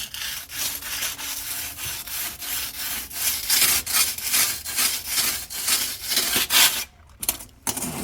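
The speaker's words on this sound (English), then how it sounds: "I'm just rubbing it across very lightly because this is an enamel." A cleaning stone is rubbed lightly back and forth across oven enamel, producing a loud, rhythmic, gritty scraping with regular strokes, close up and alone, with a brief break near the end.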